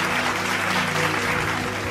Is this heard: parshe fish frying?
no